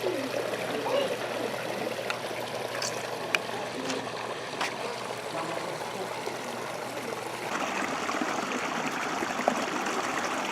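Rainwater channeled from a building roof flows into a fish pond at an environmental and heritage center, a steady trickling stream heard close and continuous outdoors, with a faint voice nearby.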